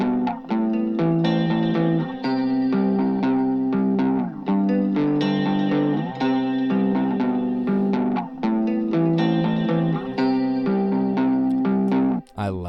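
An overdriven electric guitar with a chorus effect plays sustained power chords in a steady repeating progression within an indie folk production, each chord ringing out loud and full with short gaps between changes.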